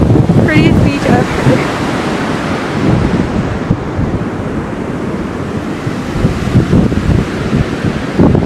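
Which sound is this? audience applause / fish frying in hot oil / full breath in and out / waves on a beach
waves on a beach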